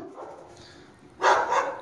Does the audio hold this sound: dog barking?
yes